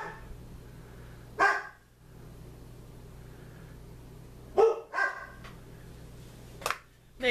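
A few scattered dog barks at a distance, single and paired yelps with quiet gaps between, over a faint constant hum.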